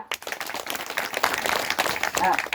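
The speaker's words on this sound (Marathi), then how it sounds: "जोरदार टाळ्या" Audience clapping at a religious sermon during a dindi procession welcome, brief irregular claps mixed with crowd noise and a voice speaking over them.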